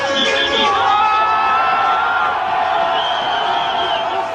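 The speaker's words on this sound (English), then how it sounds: "When the DJ plays a killer tune, the crowd lets him know with a roar of approval" A crowd at a reggae dance roars in approval, a dense loud wash of cheering and whooping voices that stays strong throughout.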